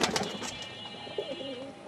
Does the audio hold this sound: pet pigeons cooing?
yes